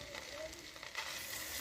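Ginger garlic paste sizzles in hot oil left over from frying fish, with chopped onions already in the pan; a steady, fairly quiet hiss runs through the whole moment.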